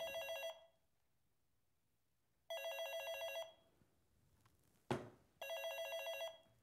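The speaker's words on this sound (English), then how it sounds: "Mrs. Lee deliberately ignores a phone call from Danny." A telephone rings at home in a Taipei house, three long electronic ring bursts separated by quiet gaps, with a brief clatter between the last two rings; no one speaks.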